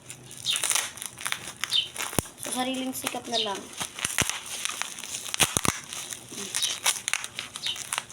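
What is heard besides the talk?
tearing open parcel packaging by hand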